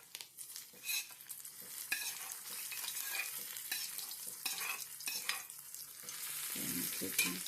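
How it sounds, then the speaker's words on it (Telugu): Ridge gourd chutney being stirred and mixed in a pan, a steady wet scraping and sizzling texture that runs continuously and fairly loud, with no one speaking. "దీన్ని ఇంక ఈ చట్నీ ఇలా కలుపుకోవడమేనండి, కలుపుకుని వేసుకోవడమే."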